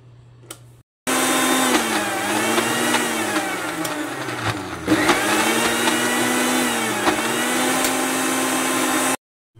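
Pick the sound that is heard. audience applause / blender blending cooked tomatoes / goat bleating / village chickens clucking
blender blending cooked tomatoes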